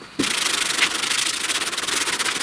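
A sanding block rubs back and forth on body filler at a truck cab corner dent repair in quick, rhythmic strokes, a close, steady scratchy sound after a brief quiet start.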